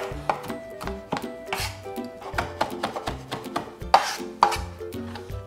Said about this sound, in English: So you just cut it the other way and you got a nice